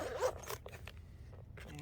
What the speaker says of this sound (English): a zipper pouch here